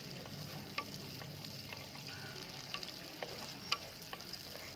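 Shallots sautéing in a pan for goat leg paya curry, a steady soft sizzle with occasional sharp clicks and scrapes of stirring, fairly quiet and close, no talking.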